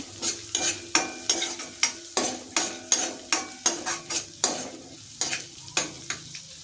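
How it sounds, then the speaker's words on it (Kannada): Raw green peas for ragi soup fry in a pan while being stirred briskly, with a rapid, regular series of metallic scraping and clinking strokes over a constant sizzle, close by and without talk. "ಈಗ ಎರಡು ಟೇಬಲ್ ಸ್ಪೂನ್ನಷ್ಟು ಹಸಿ ಬಟಾಣಿನ ತಗೊಂಡು ಇದನ್ನು ಸಹ ಫ್ರೈ ಮಾಡ್ತಾ ಇದ್ದೀನಿ"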